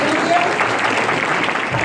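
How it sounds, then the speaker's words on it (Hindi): Loud, steady applause fills a children's chapel service, a dense wash of clapping running unbroken for about two seconds with faint voices mixed in. "जोरदार तालियां हो जाएंगे।"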